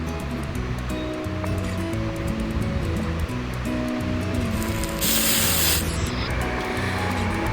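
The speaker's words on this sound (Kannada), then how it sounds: "ಇಲ್ಲಿ ನಾವು ಆನಿಯನ್ ಮತ್ತು ಟೊಮೆಟೊವನ್ನು ಚೆನ್ನಾಗಿ ಫ್ರೈ ಮಾಡಬೇಕು." Onion and tomato frying in a pan for egg masala, a steady broadband sizzle throughout with a brief louder hiss near the middle, no talking.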